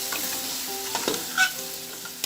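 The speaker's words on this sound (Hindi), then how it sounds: "अब हम चमचे से अच्छे से इसको मिक्स करेंगे" Beef nihari frying in spices while a spoon stirs it, producing a constant close sizzle with soft scrapes and a brief louder rattle partway through.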